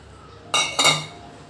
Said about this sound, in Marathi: सगळ्या वस्तू ज्या आहेत आपल्याला मिक्स करून घ्यायच्या आहेत खालीच